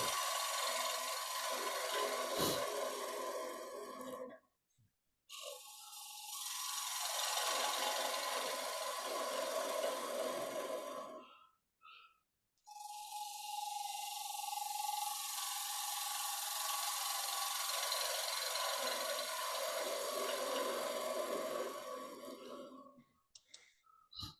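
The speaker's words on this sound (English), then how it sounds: "So back to my sort of flute at about 45-degree position. Cut this surplus wood away." A gouge cuts surplus wood from a bowl spinning on a lathe, giving a steady raspy shearing hiss in long passes broken by short pauses, close and fairly loud with no talk.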